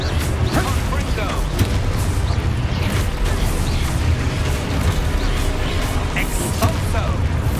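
Confringo spell explosions in the Hogwarts Legacy video game, dense repeated booms and bursts layered over constant rumbling combat noise, loud and continuous with no clear pauses.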